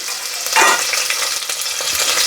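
Onions, green chilies and curry leaves fry in hot oil for a savory pongal, giving a loud, steady crackling sizzle with bursts of stirring throughout, no voices.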